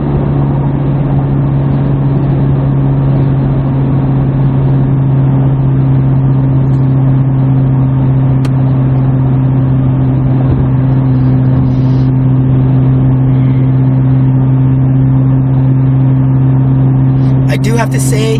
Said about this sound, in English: Now I'm just going back to my cruising 70 miles per hour.